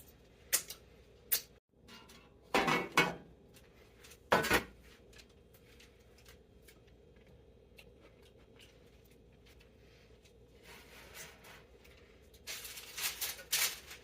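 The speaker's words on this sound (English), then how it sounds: "So now I have to put parchment on the pan." Parchment paper being fitted into a baking pan, heard as sparse crinkles and sharp metallic clatters in short bursts, separated by quiet pauses.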